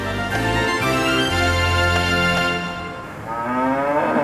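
Cattle on an Irish farm give a long, loud, close moo that dips briefly near the end before a second lowing call begins.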